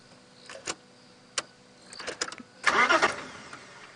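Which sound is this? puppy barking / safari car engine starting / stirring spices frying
safari car engine starting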